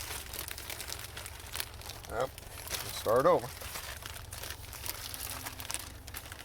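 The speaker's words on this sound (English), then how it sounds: "Take the plastic bag, wrap it around several times." Plastic bag crinkling and rustling in short bursts as it is wrapped around an outdoor hose bibb, with a louder crunch in the middle, while a person speaks briefly nearby.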